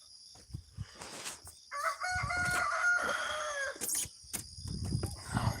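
A rooster crows in a long, loud call at dawn in the open, its harmonic cry rising and holding over faint outdoor background noise, with a few other scattered bird and farmyard sounds around it.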